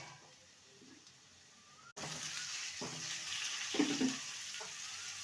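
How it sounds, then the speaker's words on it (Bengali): Ridge gourd added to potatoes with turmeric and salt frying in a pan, a soft steady sizzle that jumps louder as it goes in, with occasional stirring scrapes, fairly quiet overall. "ঝিঙেটাকে 2 মিনিট ভেজে নেব।"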